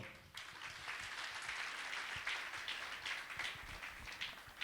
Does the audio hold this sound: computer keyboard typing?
no